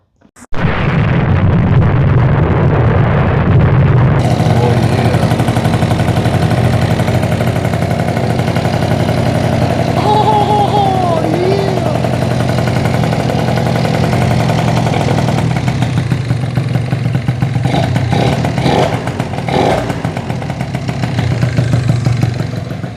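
A horizontal Minarelli scooter engine starts and runs steadily, a loud, close, buzzing two-stroke idle with popping bursts that carries on throughout, without speech.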